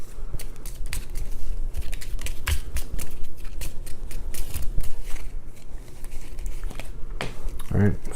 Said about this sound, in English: then I have to shuffle